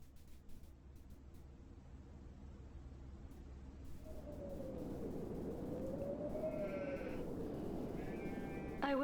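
A sheep bleats in a farm scene from the Mandela Catalogue, a drawn-out wavering call rising and falling after a quiet start, fairly close over a steady low background hum.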